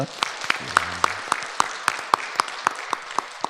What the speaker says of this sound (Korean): 환영의 박수 하도록 하겠습니다